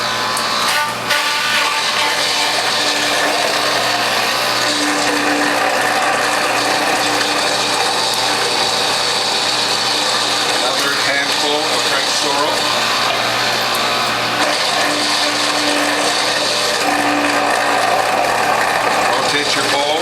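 A Whole Health Foundation juicer cutting French sorrel fed through its front-loading feed tube gives a loud, steady mechanical whir with ratcheting grind, running continuously and close, with a voice now and then over it.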